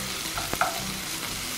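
Chicken pieces fry in a pan with a dense, even sizzle and a brief clatter of a wooden spoon stirring near the middle.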